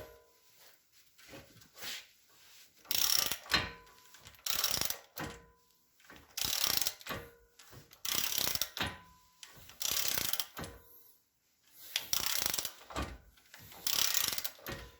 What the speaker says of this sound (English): One thing I suggest, a ratcheting breaker bar comes in handy.